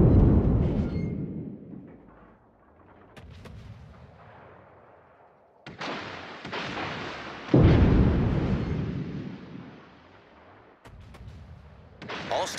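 Naval artillery from World of Warships booms out in heavy repeated salvos, with big blasts near 0, 5.7, 7.5 and 12 seconds and long rumbling decays trailing each one, loud and without talk.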